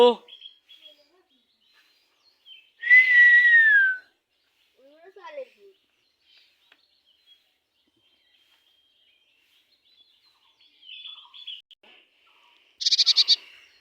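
Pet myna bird calling indoors, a few loud, clear descending whistled calls separated by long quiet gaps, with a bright burst near the end and faint background sounds.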